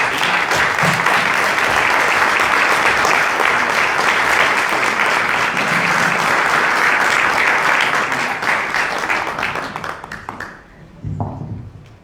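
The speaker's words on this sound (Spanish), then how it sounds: "Le damos un aplauso a..." Audience applause at a book presentation event, steady dense clapping filling most of the stretch before thinning out near the end, with a voice briefly emerging as it fades.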